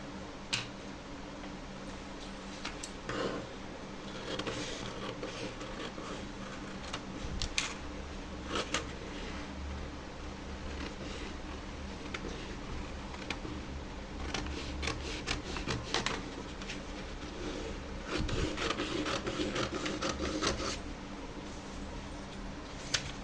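Scissors snip through blouse fabric for a deep-neck princess-cut blouse, with quiet, irregular clicks and crunches against a soft background hiss.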